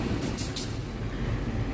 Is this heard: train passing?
yes